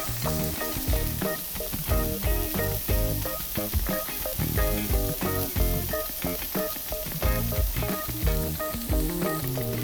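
Salmon sears on a hot grill plate while a crust develops, giving a loud continuous close sizzle with dense crackling and spitting and a rhythmic texture throughout.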